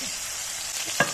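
Chicken skewers sizzle on a grill pan as they are turned to cook through, a steady close frying hiss with a couple of sharper crackling bursts near the end.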